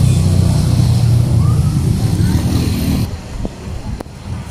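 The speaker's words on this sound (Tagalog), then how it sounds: "Ingay talaga sa ano, lungsod ba? Sa bayan, napakadaming sasakyan." Busy town street with many vehicles, a loud rumbling wash of engines and passing motorcycles that thins out, with someone talking over the traffic.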